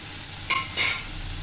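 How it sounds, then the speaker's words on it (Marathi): Drumstick, pumpkin and carrot sauté in oil, with a soft continuous sizzle and two brief scraping stirs of a spoon in the pan. "भाज्या चांगल्या परतून घ्यायच्या तेलात"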